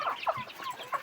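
Yellow-legged Thai fighting chickens on a farm cluck in a quick, busy series of close, moderately loud calls, with no talking over them.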